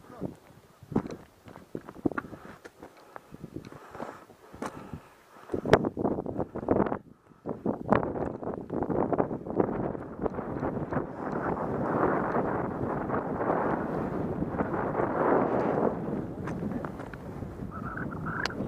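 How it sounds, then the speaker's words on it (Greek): Strong gusts on the summit of Mytikas, Mount Olympus, Greece, buffeting the microphone with rumbling, roaring noise that builds into a sustained blast, with people talking and a few knocks and steps early on. "Βέβαια κάνει κρύο εκεί και φυσάει"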